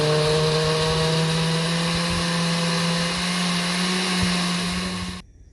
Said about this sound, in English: So now what I'm gonna do, I'm gonna blend it.